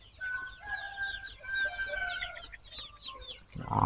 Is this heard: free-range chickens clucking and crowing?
yes